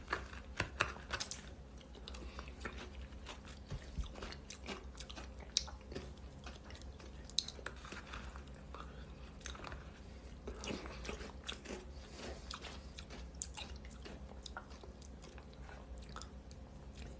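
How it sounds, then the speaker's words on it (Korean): Someone chews kkakdugi radish kimchi alongside gukbap, a close, quiet run of crisp crunches and wet biting sounds repeating in an uneven rhythm, with no talking. "지금 깍두기 씹는 거"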